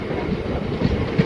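MEMU local train running between Vijayawada and Machilipatnam, heard from on board as a steady low rumble with faint clickety-clack wheel beats, no voices.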